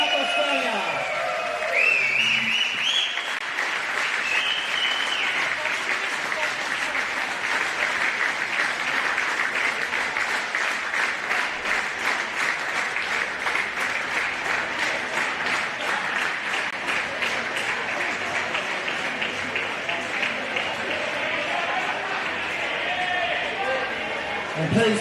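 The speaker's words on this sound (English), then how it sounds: "please keep the applause going for your champions" Sustained crowd applause at the 2023 AMC Over 30 Women Grand Final, steady dense clapping with some cheers, with an announcer talking over it at the start and end.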